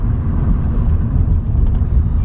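Continuous low rumbling car engine at steady revs during stick-shift driving practice, heard from inside the vehicle, loud and droning with no distinct gear changes.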